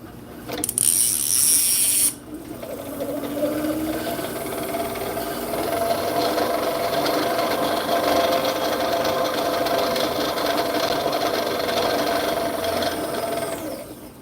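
A fishing reel cranked to spool line, a continuous close whirring ratchet that runs steadily for over ten seconds after a brief sharp high rattle at the start.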